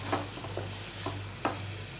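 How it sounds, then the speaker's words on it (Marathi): A spatula scrapes and stirs fried eggs in a pan of masala in a few distinct strokes over a constant sizzle of frying, with a low steady hum beneath. "आणि ती चांगली मिक्स करून घेऊया मसाल्यामध्ये."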